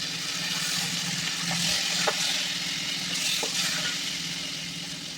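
Finely chopped tomatoes fry in a pan with onions and turmeric, giving a soft, steady sizzle at moderate distance with a few faint scrapes of stirring and no voices.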